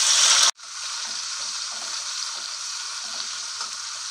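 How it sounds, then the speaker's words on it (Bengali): Chopped onions hit hot oil with a sudden loud sizzle that settles into a steady, close frying hiss, with light bubbling crackles underneath. "এবার দিয়ে দেবো পেঁয়াজ"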